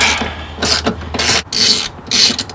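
A Torx T50 bit on a ratchet loosening seat belt bolts in a Ford Transit, repeated loud rasping ratchet strokes in an even rhythm with brief pauses between, close up and without speech.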